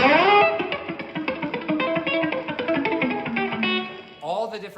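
An Epiphone electric guitar played through a small Blackstar 20-watt tube amp rings out in a quick run of picked notes with a driven, reverberant tone, ending on a fading chord and a brief scrape, with no talk.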